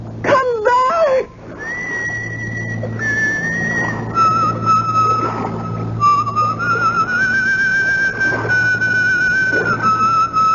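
A woman whistles a sustained, wavering tune in a radio mystery drama about a pipe-smoking lady with a cutlass, steady and fairly close over a low background hum after a brief opening burst.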